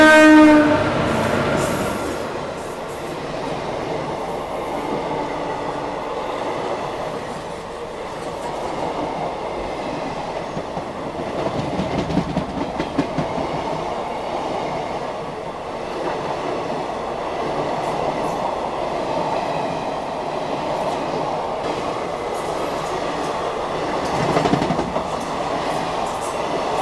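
The Howrah Jodhpur Express rumbles and accelerates on the rails, a loud continuous roar of wheels and carriages with rhythmic clatter and a horn near the start.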